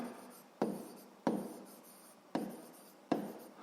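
Pen writing on paper during a sixth-grade math exercise, four quick scratchy strokes in an uneven rhythm, close and quiet, with no talk.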